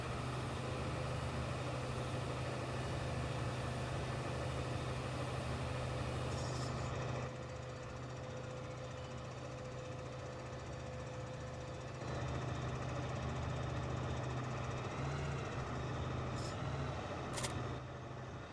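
A tractor engine in the video game Farming Simulator 15 runs with a steady low droning hum and a faint whine, its tone shifting slightly at a few points, and no voices.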